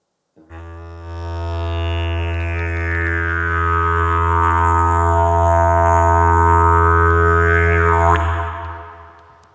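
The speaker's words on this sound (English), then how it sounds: "So it's vibrating your lips, pushing out, and this is what it should sound like." A didgeridoo sounds a basic drone made by buzzing lips, a deep, steady, continuous tone with a slowly shifting overtone sweep, loud and close, sustained for several seconds before stopping abruptly.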